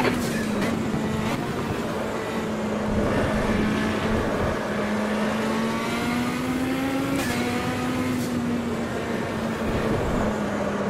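A race car engine in the racing video game Automobilista hums steadily and loud throughout, pitch rising slightly and easing off, with faint tyre and crowd-like noise underneath.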